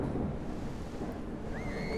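Thunder rumbles low and continuous through a storm with rain in the horror game Nightmare Flight, a dull, steady roll that fills the whole span with no voice.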